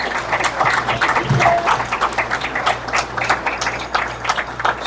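Steady applause from a crowd at a town board meeting, a dense patter of many hands clapping that holds at a fairly even level throughout.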